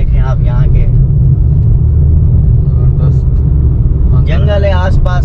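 Car driving along a road through jungle on Langkawi, a loud continuous engine and road rumble throughout, with people talking over it.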